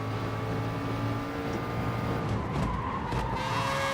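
A Bugatti Veyron VGT racing in Gran Turismo Sport: a steady engine drone with tires squealing and skidding, loud and close, and no talking.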